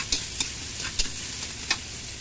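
Garlic and onion frying in a pan as the base for fish sarsiado, a constant bright sizzle broken by several crisp clicks from a spoon stirring.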